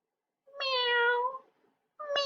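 A cat meows twice, a clear drawn-out mew followed by a pause and then the start of a second, close and loud with nothing else around.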